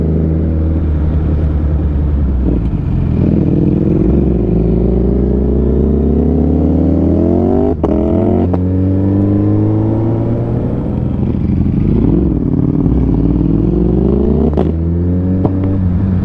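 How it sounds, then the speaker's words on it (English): Ducati Panigale V4-R motorcycle fitted with an Akrapovic exhaust, revving loudly and repeatedly, each blip rising sharply in pitch and falling back to a deep, rumbling idle, close and continuous with no talking. "how the exhaust sounds, review and everything"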